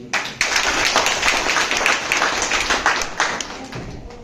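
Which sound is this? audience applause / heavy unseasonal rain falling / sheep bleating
audience applause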